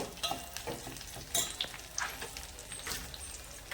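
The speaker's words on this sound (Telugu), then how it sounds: "వేగినాయండి ఆవాలను, సాయమైన పప్పు, కొంచెం జీలకర్ర వేస్తున్నాం." Mustard seeds and dal fry in hot oil, giving a soft continuous sizzle dotted with small crackles and pops, close and fairly quiet, with no talking.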